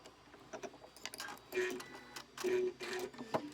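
A sewing machine stitches quilt binding in short bursts, its motor whirring in a few separate runs with small mechanical clicks between them, fairly faint and close with no talking.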